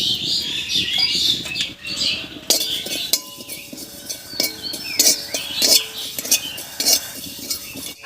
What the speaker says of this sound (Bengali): কালো জিরাটা ফুটতে আরম্ভ করেছে।